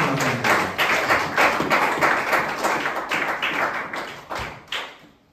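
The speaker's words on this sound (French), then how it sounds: "Applaudissons pour toi." Applause from a church congregation, a steady patter of many hands clapping that swells and then thins into a few scattered claps before fading out.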